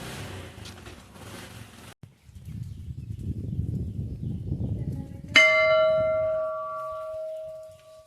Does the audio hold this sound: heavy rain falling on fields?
no